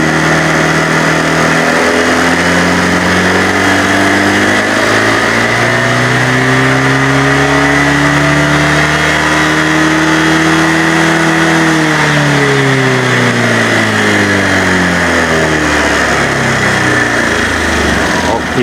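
A motorcycle engine with a clogged exhaust and catalytic converter runs steadily, its pitch rising and falling as it revs up and then eases back down, loud and close throughout.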